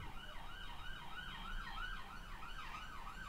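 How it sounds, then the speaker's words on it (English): A distant siren sweeps up and down in a steady repeating wail, faint beneath low background rumble. "I'm sorry if you guys can hear sirens."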